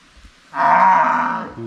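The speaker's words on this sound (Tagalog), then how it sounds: "Ingay si Paloma" A single loud, drawn-out cow moo close by, followed by the start of another low call.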